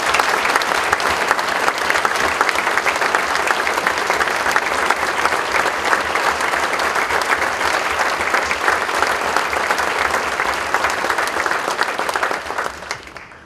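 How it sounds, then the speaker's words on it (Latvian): An audience at a November 18 state holiday concert in Latvia applauds state award recipients with loud, dense, steady clapping from a large crowd that carries on evenly before tapering off at the very end. "Ar aplausiem sveiksim valsts augstāko apbalvojumu saņēmējus, kas ir šodien kopā ar mums."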